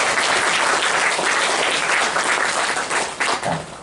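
Applause from a church congregation honoring teachers who stand for recognition, steady dense clapping that fills the room and tapers slightly at the end.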